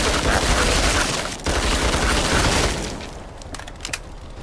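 Sustained full-auto gunfire in a video game, dense and loud for about two and a half seconds, then dropping away to scattered sharp pops and a quieter tail.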